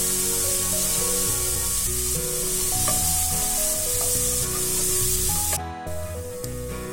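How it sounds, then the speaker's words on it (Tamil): Onions sautéing in hot oil with salt for bitter gourd thokku, a steady bright hiss running under louder melodic background music. "வெங்காயமும் நல்லா வதங்கணும்."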